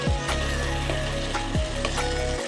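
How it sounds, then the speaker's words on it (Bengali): Spiced potatoes with gondhoraj lemon sizzle in a pan as a spatula scrapes and stirs them in repeated rhythmic strokes, close and continuous, with no voices. "দিয়ে এটাকে ভালো করে আবারও ভাজতে থাকবো"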